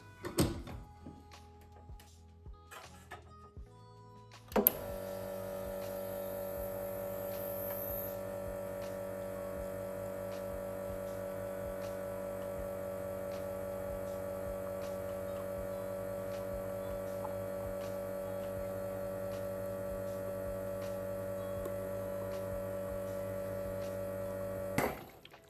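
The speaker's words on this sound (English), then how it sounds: "now we are ready to pull our shot." An espresso machine pulls a double shot. A few soft clicks are followed by a steady electric pump hum that starts abruptly and drones evenly for about twenty seconds before cutting off.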